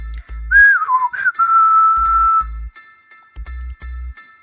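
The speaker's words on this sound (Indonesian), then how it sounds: "Pendekar 212 bersiul nyaring." A loud, clear human whistle warbles and dips, then holds a long steady note, with low thumping pulses beneath it.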